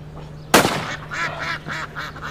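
Ducks quack during a duck hunt, a series of short nasal calls following a sudden loud, sharp burst, fairly close and with no talking.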